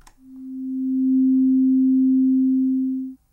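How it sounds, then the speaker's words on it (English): A single pure synth tone from Sonic Pi swells in over about a beat, holds steady, then fades out, a clean sustained note lasting roughly three seconds with no talk. "we're going to get now a 3-beat sound"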